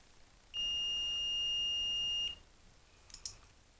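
A continuity tester beeps while probing the wires of a broken electrical cord end, giving one steady, loud electronic tone of just under two seconds, followed by quiet and a couple of faint clicks.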